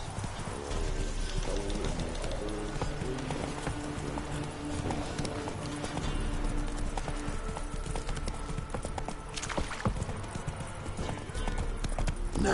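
Horse hooves clip-clop steadily and close in the video game The Witcher 3 as the horse Roach walks, with bird coos and ambient sounds of the game world underneath.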